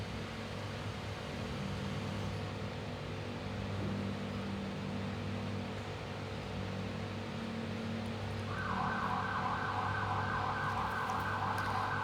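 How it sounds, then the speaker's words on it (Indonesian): A steady ambulance siren wails through constant background noise, holding a continuous tone throughout and joined by a brighter, louder siren tone near the end, with no talk. "Ambulan."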